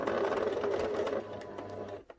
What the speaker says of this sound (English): pop the presser foot back down and sew a little further